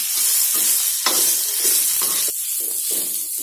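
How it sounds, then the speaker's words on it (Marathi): Coriander leaves roasting on a tawa with onion, garlic, green chilli and ginger for a Karwar-style egg curry, a loud close sizzle broken by repeated stirring scrapes. "आता त्याच्यामध्ये ही कोथिंबीर घालणार आहे आणि ती पण जरा भाजून घेऊया"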